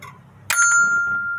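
A Meccano-built mantel clock sounds its quarter-hour chime: a bright, sharp metallic strike that rings on with a sustained tone after a brief quiet moment, heard close and alone.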